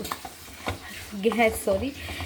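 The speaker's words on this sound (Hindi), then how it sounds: "हमारी जो दाल का पेस्ट था उसको भुनते भुनते हो गए हैं 15 मिनट" Moong dal paste roasting in plenty of ghee for halwa, stirred in a pan, gives soft scraping and a light sizzle, with a voice briefly heard over it.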